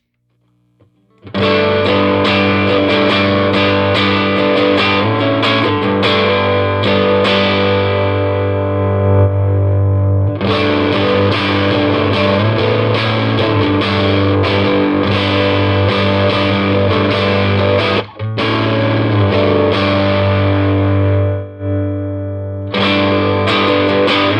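A distorted electric guitar played loud and continuously through a hand-wired Vox AC4 tube amp with the master volume turned all the way up, thick sustained chords with brief gaps, full and saturated throughout.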